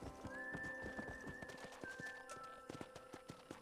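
Horse hooves clip-clop steadily at a riding pace in Red Dead Redemption, with snorts and a whinny over a soft musical backdrop, fairly quiet overall.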